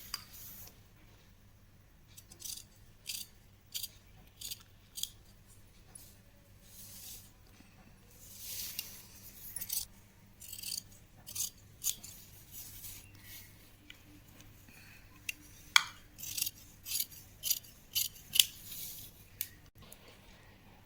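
Scissors snip through cloth while cutting out a child's blouse, a long run of short, close, crisp cuts in irregular bursts over a quiet background, with no talk.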